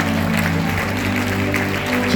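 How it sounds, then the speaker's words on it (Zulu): Church congregation clapping for Jesus, a continuous, fairly loud patter of many hands with a low sustained hum underneath. "Ake shayela uJesu ihlombe."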